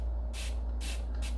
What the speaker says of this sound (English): I'm just going to take my water bottle and I'm going to spray some water